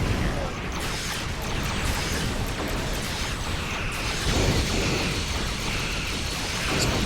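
Ship torpedoes fire and burst in Star Trek Online space combat, producing a dense wash of mechanical clanks, pops and booming impacts, with a voice talking underneath.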